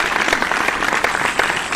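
Sustained audience applause at a mushaira for the poet Majid, steady dense clapping from a large crowd throughout, loud and even with no break.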